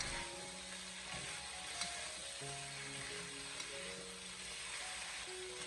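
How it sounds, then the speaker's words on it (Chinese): Chicken pieces pan-fry slowly over medium-low heat, a faint, steady sizzle continuing throughout, with a few soft clicks and tonal kitchen hums underneath. "把雞塊給它煎香。"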